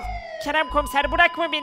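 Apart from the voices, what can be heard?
siren in Minecraft video game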